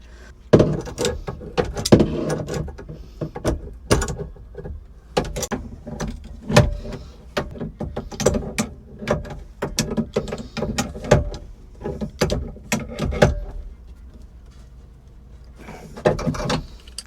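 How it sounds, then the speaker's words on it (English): Charged refrigerant line fittings on a Catalina 320 sailboat's refrigerator are tightened by hand, giving a long run of sharp metallic clicks and clanks in irregular bursts with short pauses, close and fairly loud. "As you tighten them up, they sort of push in their own valves and connect, because both of these are charged already."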